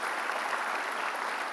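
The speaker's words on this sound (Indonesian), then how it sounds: "Kita kasih tepuk tangan dong Mas Sugeng Haryono" A studio audience on an Indonesian talk show applauds a guest with steady, dense clapping that fills the whole short stretch at an even level.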